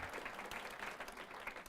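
Applause and cheering from a room of colleagues for a staff member of the Gear Up office at a welcome-back gathering, a steady patter of clapping that sounds fairly faint and distant throughout.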